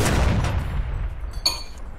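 Fireworks in the Roblox video game go off as a low boom followed by a sharp crackling burst, one short loud volley up close.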